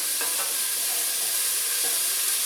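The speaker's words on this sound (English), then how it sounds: "the onion is kind of cooking in that bacon fat a little bit that's in the bottom" Chopped onion frying in bacon fat at the bottom of a hot Instant Pot-style pot, a constant close hiss and sizzle broken by a few soft scraping stirs, with no talking.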